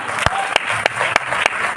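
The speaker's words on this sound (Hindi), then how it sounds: "सर और मैम के लिए भी एक जोरदार तालियां" An audience applauds steadily, the dense clapping sustained throughout with a few sharper claps standing out.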